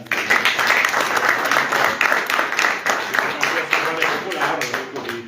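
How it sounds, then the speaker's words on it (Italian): Steady applause from a crowd, dense clapping filling the whole stretch without a break. "Ringrazio anche Alessandro Rancani, un applauso anche per lui"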